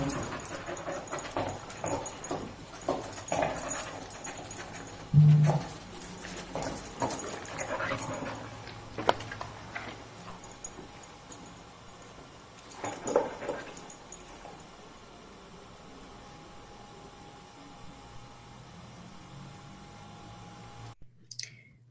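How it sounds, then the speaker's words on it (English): A crime scene search dog trained to find human blood works close by, with panting, sniffing and scattered clicks of claws and movement in bursts throughout, no talking. "The second dog that we've seen work today is the crime scene dog, Keela."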